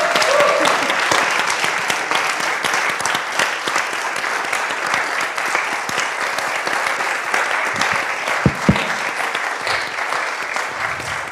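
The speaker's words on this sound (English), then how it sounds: "like with a round of applause?" A conference audience applauding the organizers at the close of a machine learning and astrophysics meeting, sustained dense clapping from a large room lasting several seconds.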